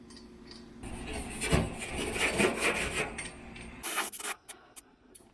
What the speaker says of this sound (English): using a Scotch-Brite pad to rough up the belly, the underside of the hood